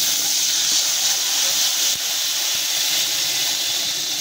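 Water poured into hot fried spice paste for a lentil malai curry sets off a loud, continuous steamy hiss that stays even throughout, with a few faint clicks.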